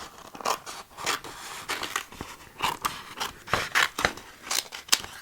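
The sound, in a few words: cutting out a hand-drawn sticker with scissors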